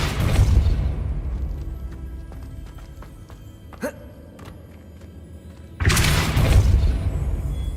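The Depulso spell goes off in Hogwarts Legacy with a deep, whooshing boom. A quieter stretch with small clicks and a faint pop follows, then a second forceful blast.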